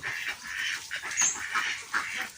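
A crowd of ducks quacking in a steady busy chatter, fairly close, with no one talking, on a rural garden farm in the morning as the ducks are let out.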